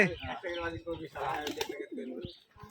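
Rajshahi Giribaz pigeons, a big-sized bird among them, coo in a series of soft rounded calls at close range, with someone talking over and between them.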